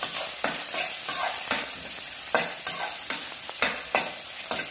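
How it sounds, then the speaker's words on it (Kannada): Finely chopped onion frying in hot oil for chicken chilli, stirred with a spoon: a bright continuous sizzle broken by regular scraping strokes against the pan, close and fairly loud, no voices. "ಈಗ ಎಣ್ಣೆ ಬಿಸಿಯಾದ ನಂತರ ಚಿಕ್ಕದಾಗಿ ಕಟ್ ಮಾಡಿದ 1 ಈರುಳ್ಳಿಯನ್ನು ಹಾಕಿ ಇದನ್ನು ಚೆನ್ನಾಗಿ ಫ್ರೈ ಮಾಡಿ."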